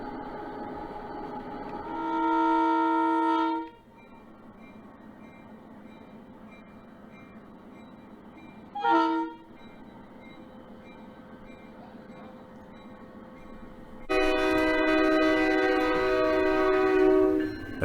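A model GE U-28C locomotive on a Penn Central–style layout pulls a string of empty cars out of a yard: a steady mechanical hum runs throughout, broken by three loud, tonal horn-like blasts, the last one long.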